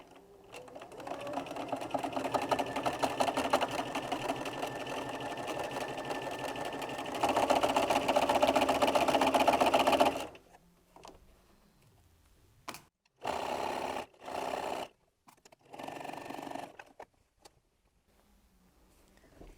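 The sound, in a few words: sewing machine sewing a quarter-inch seam on a quilted wallet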